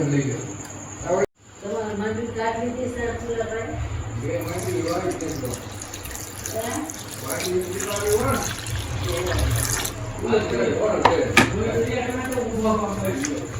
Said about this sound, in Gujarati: આ રીતના સરસ મજાનું પાણી અંદર નાખી અને વોશ કરી લઈશું